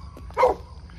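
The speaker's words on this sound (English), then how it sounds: "Never stops barking, even when she's asleep," A noisy pet dog gives a single sharp bark in the middle of a quiet moment, clear and fairly close over a low background hum.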